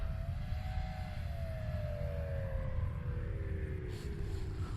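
A small engine drones steadily with a slowly falling pitch as an old Cermark Fantasy Flyer RC model plane passes, over constant low wind rumble, no voices.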